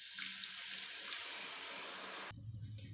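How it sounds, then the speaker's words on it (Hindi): Water poured into a pan of jaggery, a steady bright splashing stream for about two seconds that stops abruptly, followed by a low clunk. "इसके अंदर हम 3-4 चम्मच पानी डाल देंगे।"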